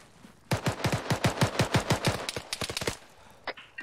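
Rapid automatic gunfire in the military game ARMA 3, a dense burst of about twenty sharp shots fired in quick rhythmic succession, loud and close, followed by a couple of scattered shots with no talk.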